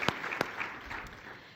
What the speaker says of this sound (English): So round of applause for all the people who made the nominations and for the